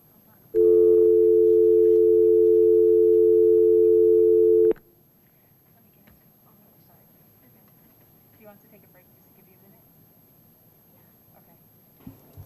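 A telephone tone sounds on a failed call during a board meeting, one loud, steady tone lasting about four seconds, then cutting off to quiet room noise with faint rustles.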